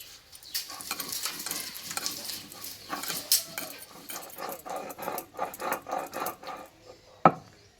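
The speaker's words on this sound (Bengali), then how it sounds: "এই চালটা আমি বেটে নেব শিলনোড়ায়" Soaked rice is ground on a shil-nora grinding stone, making rhythmic gritty scraping strokes that grow louder and more regular, closing with one sharp knock.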